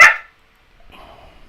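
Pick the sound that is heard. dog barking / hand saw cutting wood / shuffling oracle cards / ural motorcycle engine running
dog barking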